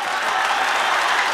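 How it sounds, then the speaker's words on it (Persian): Dense, loud audience applause with cheering on a televised singing competition stage, a continuous wash of clapping and crowd noise throughout. "تشویق نمیکنین، ما براتون نمیگم."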